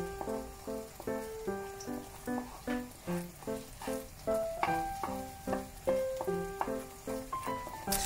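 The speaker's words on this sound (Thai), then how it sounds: "พอไข่เริ่มเซตตัวก็ให้ยีๆตรงกลางเขานิดนึงนะคะ" An egg omelette cooked with fresh butter sizzles in a pan while it is stirred, a steady frying hiss running under bright, plinking music with a regular rhythmic beat.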